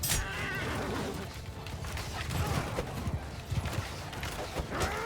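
Horses moving in the Mount & Blade II Bannerlord video game, with a busy clatter of hooves and scattered knocks over a dense battle din.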